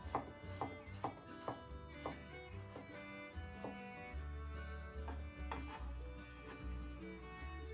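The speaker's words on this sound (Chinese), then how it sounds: "生姜切片" A knife slices fresh ginger on a cutting board in a home kitchen, steady rhythmic chopping taps repeating close and clear over a low background hum.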